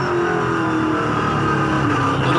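V8 Supercar engine screaming at full throttle on the Oran Park circuit, heard onboard as a loud, sustained high-revving roar that climbs slightly and never lets up.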